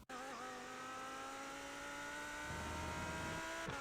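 Lamborghini Huracan Evo GT3 racing around Watkins Glen in the iRacing sim, its engine holding a steady high whine before the pitch drops sharply on a downshift and then climbs again.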